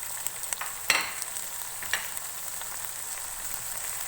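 Whole garam masala spices with garlic-ginger paste frying in a pan over a medium flame, a soft steady sizzle with a few brief stirring scrapes, close and alone without talk.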